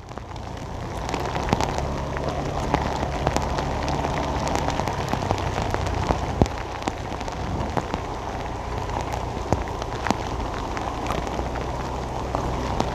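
Heavy rain pours onto a Saigon street in a steady, dense hiss with scattered sharper drops and low rumbling traffic underneath, continuous and fairly close throughout.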